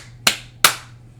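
Two sharp hand claps ring out a little under half a second apart during a drag lip sync performance, each with a short decaying tail in an otherwise quiet room.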